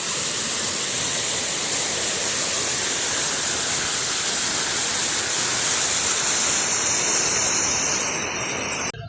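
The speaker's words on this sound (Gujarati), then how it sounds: "ને તો આ રીતનું પાણી પણ જાય છે" Rainwater rushes along a mountain path on Girnar hill during the Lili Parikrama pilgrimage, a loud, continuous, even wash of flowing water with no voices.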